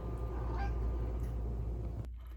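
A black cat gives a single short meow, fairly close, over a constant low background hum that cuts out at the end.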